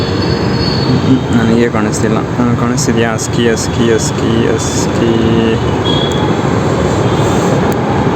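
A metro train passes nearby with a steady loud rumble and faint wheel squeal across the whole stretch, while people talk over it.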